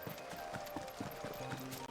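A donkey trotting in the video game Final Fantasy XVI, its hooves making a quick, even clip-clop rhythm that is soft and close and carries on without any voices.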